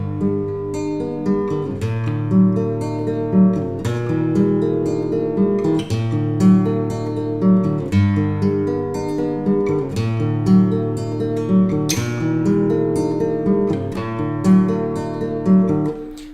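Acoustic guitar fingerpicked fast through a looping four-chord progression, steady arpeggiated notes repeating twice, clear and close with no voice.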